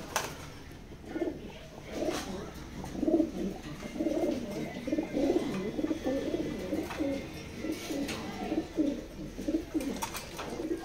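Pigeons coo again and again in a soft, rhythmic, throaty rolling pattern, close by and steady, with no voices over them.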